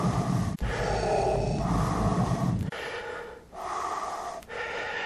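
A man imitates Darth Vader's breathing as a simple breathing exercise, producing loud, close, hissing rasping breaths in a steady rhythm, with brief pauses between inhale and exhale.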